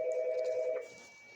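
A telephone rings during a meeting, one steady electronic tone that holds for under a second and then cuts off, leaving faint room hum.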